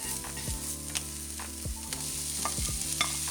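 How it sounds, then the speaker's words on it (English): Chopped onion, garlic and meat for bun filling frying in a pan, with a constant close sizzle and repeated rhythmic strokes of a stirring utensil scraping through the mixture, without any talking. "you fry it all up in a pan"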